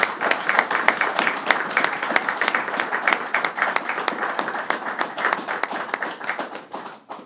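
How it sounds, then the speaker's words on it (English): Audience applause honoring Lieutenant Young, the first African-American woman to hold the rank of captain in the New York State Police, at a government announcement on crime; steady dense clapping throughout, fading toward the end. "Let's give her a round of applause."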